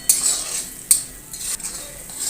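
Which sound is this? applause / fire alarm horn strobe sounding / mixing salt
mixing salt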